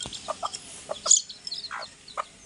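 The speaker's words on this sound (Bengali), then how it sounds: "আর এখানে আমাদের আরেকটি মুরগির বাচ্চা।" A young chick among a small brood on a backyard poultry farm gives a series of short, thin peeps and soft clucks, scattered irregularly and fairly close in a quiet setting.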